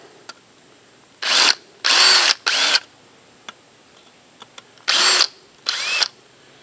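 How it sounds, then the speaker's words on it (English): A deburring tool scrapes burrs from a freshly drilled hole in a truck tailgate area, heard as five short, loud rasping bursts in quick succession with brief quiet gaps and a few small clicks between them. "I got me a deburring tool."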